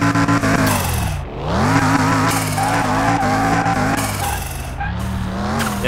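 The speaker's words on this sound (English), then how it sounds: "Gonna spin out real quick there." A Scion FR-S spins out on a race track in Car Mechanic Simulator 2021, its engine droning loudly while the tires squeal and skid continuously, the pitch sweeping down and back up as the car slides.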